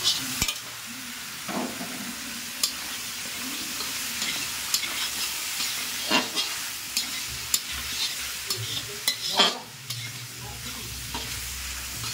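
Capsicum and onion sizzle steadily in a hot pan while a spatula scrapes and clinks against it every few seconds.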